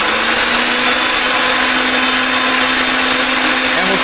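A RIDGID pipe threading machine runs steadily throughout, giving off a loud, continuous motor whine with a constant hum and no pauses.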